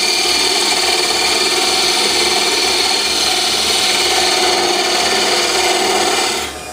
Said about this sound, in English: And I'm really removing a lot of wood.